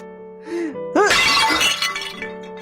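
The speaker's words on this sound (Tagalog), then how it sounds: "Nabasag mo yung flower vase." A flower vase breaks indoors in one sharp crash with a scatter of tinkling fragments. It sounds over steady background music, then fades.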